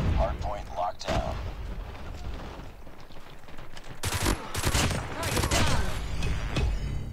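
Renetti burst SMG fire in a COD Mobile Hardpoint match cracks out in sharp, loud clustered bursts, sparse at first and then packed close together, with a voice talking over the shooting.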